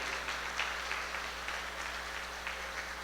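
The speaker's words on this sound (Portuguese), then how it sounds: "Pode aplaudir a Jesus." Faint applause from a church congregation during a sermon, a soft scatter of clapping over a low, steady hum of room noise.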